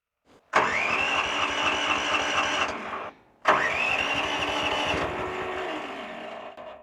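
An engine cranks and catches twice, each start giving way to a loud, steady run that holds for a few seconds before cutting off; the second run lasts longer and settles lower.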